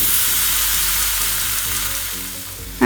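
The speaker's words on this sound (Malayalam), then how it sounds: "അങ്ങനെ നമുക്ക് എള്ളും നന്നായി റോസ്റ്റ് ചെയ്തെടുക്കാം." Black and white sesame seeds, still damp, roast in a hot pan with a dense, even sizzle up close. The sound stays steady and fairly loud throughout, ending in a brief louder burst, with no voices.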